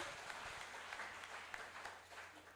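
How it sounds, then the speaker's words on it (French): A church congregation applauding during a sermon, a dense, continuous wash of many hands clapping together in a reverberant room, fairly faint and steady, with no voices. "Acclamez très fort pour Dieu."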